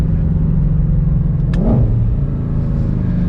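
A 2021 Ford Mustang Shelby GT500 accelerates hard, its loud engine roar rising with a quick gear shift midway and a brief sharp click, heard from inside the car with no speech.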